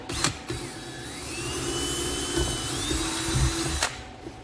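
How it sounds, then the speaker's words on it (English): A drill bores a hole into a prop siren housing, a continuous whirring with rising pitch and grinding creaks up close, bracketed by brief clicks at start and end. "I drilled the hole"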